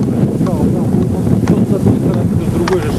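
Wind gusts outdoors and buffets the microphone with low, uneven rumbling, while people talk over it throughout.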